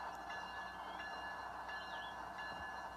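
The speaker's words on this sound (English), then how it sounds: "We finally get to see a Maritime train." A Maritime freight train rolls past at a steady distance, giving a continuous rumble with wheel and rail noise and faint high squeals, with no voices.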